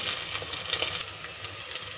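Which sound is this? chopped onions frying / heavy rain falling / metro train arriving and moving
chopped onions frying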